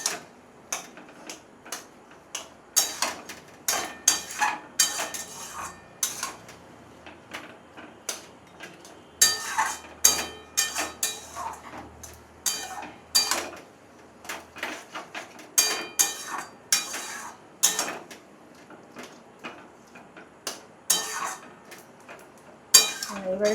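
Tomato chutney stirred in a pan on the stove, a spoon tapping and scraping against the metal in irregular bursts of clatter with short pauses, close and moderately loud, with occasional talking.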